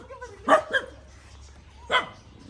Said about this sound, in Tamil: எல்லாம் குலைக்க ஆரம்பிச்சிச்சு.